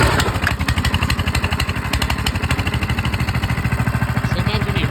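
A dusty old Honda minibike engine runs close and loud at a rough, rapid, steady putter, its regular firing pulses rattling throughout.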